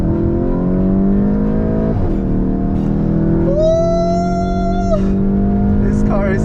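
VW Golf GTI on the Sepang International Circuit, its engine droning loudly and climbing steadily in pitch under acceleration, with a brief squealing whine midway and excited voices talking over it.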